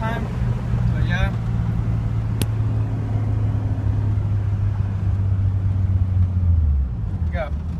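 A turbocharged Nissan 280ZX running Megasquirt with fuel cut on accelerates hard, its engine drone rising steadily then dropping at a short shift, loud and close from inside the car, with a brief sharp click partway through.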